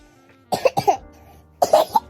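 A sick person coughing: two quick coughs close together, a pause, then a tighter burst of two or three more, all near and fairly loud with nothing else around them.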